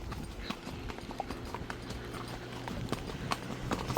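Horses' hooves clip-clop steadily on open summer pasture ground where a herd grazes, a continuous rhythmic patter of many hoofbeats over a low rumbling background, with faint voices in the distance.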